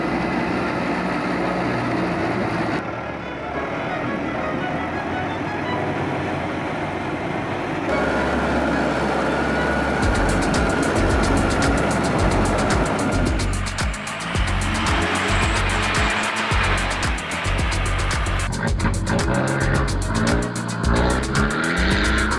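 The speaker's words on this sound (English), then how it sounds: "The engine roared violently, the wheels spun and sprayed mud everywhere" A 4x4 truck's engine roars hard as its wheels spin and churn through deep mud on a treacherous road in Papua. The loud, continuous mechanical rumble surges and grinds throughout, with no talking.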